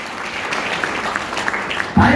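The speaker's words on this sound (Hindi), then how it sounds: "जिसने भी आपको इनवाइट किया उसके लिए एक जोरदार ताली होनी चाहिए" An audience at an event claps steadily, a sustained patter of many hands that rises abruptly louder at the end.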